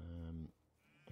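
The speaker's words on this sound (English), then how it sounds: "You're a shaved sheep. You're a woolly one." Sheep bleating in the Medieval Dynasty farming game, two loud bleats near the listener, one long cry and then a short one after a brief quiet gap.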